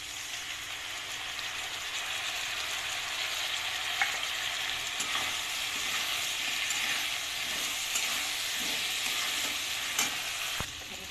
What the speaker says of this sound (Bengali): এই মশলা কষানো হয়ে গেছে